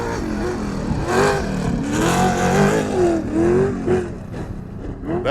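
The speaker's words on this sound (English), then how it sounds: "And now we're watching the trucks, chase copters coming around." Off-road race trucks at King of the Hammers roaring past nearby, their engines revving and whirring as they accelerate by in a loud, continuous run with rising and falling pitch.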